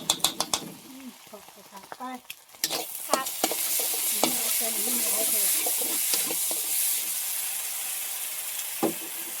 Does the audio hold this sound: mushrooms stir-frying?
yes